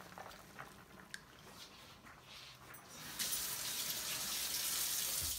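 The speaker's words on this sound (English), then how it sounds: "now let me rinse my finger a little bit" Steady stream of tap water pouring into a sink while a finger is rinsed, coming in loud and continuous after a quiet start.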